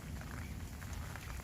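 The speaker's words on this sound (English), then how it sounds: "It's raining" Steady rain drums on a fishing bivvy beside a lake during a carp fishing session at Wraysbury, a dense, continuous patter with low rumbling texture and no voices.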